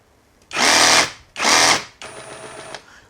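A Masaru SCSR440 cordless reciprocating saw, rated at 3500 strokes and a 22 mm stroke, gives two loud buzzing bursts when the trigger is pulled. A steadier, quieter whine follows at lower speed, and there is no speech.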